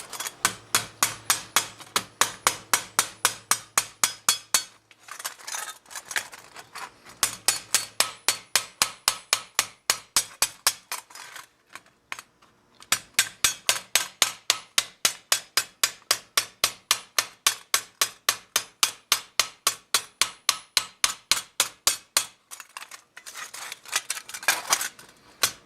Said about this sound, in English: Next step is to chamfer the edge.